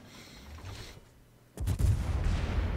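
Warships firing in the World of Warships video game: quiet background rumble, then a sudden heavy booming salvo that keeps roaring and rumbling at high volume.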